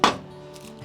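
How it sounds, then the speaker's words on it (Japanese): A knife cuts lengthwise through a Japanese leek (naganegi) on a cutting board with one crisp, close chop, followed by quiet kitchen room tone. "こんな感じで縦に最初に包丁を入れてスライスします。"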